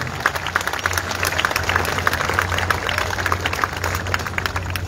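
An audience at a building expo applauds in a steady, dense wash of clapping that runs the whole time.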